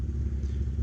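Husqvarna GTH200 lawn tractor's twin-cylinder engine idling unevenly on just one cylinder, a steady low rumbling chug with slight clatter, close and continuous.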